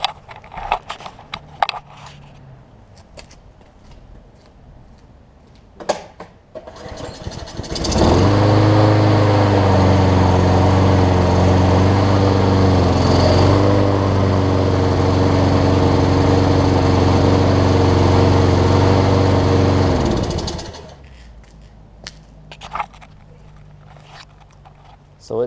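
A Troy Bilt TB230 self-propelled push mower starts up and runs at a steady loud drone for about thirteen seconds, then shuts off, with scattered clicks and handling noises before and after.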